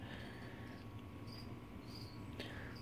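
Crickets chirp steadily in a pet enclosure where frilled dragons are being fed, a thin continuous insect trill with occasional louder nearby chirps over a constant hiss.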